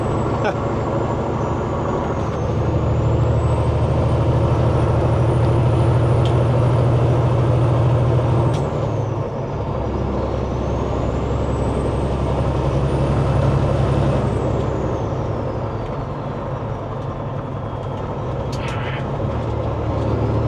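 A heavy truck rolls through a weigh station bypass, its engine a steady, loud low drone with a brief dip midway and a short hissy burst near the end.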